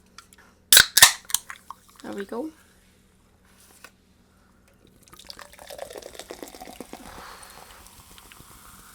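A sharp pop and hiss as a bottle opens, a short voice remark, then liquid pours and fizzes softly.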